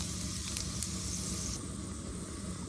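Chopped dried chilies frying in hot oil for a spinach stir-fry, giving a steady close sizzle with a couple of brief sharp crackles and pops early on.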